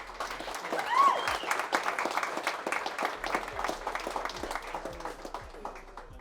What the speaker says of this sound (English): So firstly, a big round of applause for Ivan.